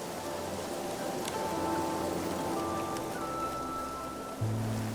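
Steady rain in the video game Infinity Nikki, a dense, even hiss throughout with soft tonal music running beneath it and a low swell near the end.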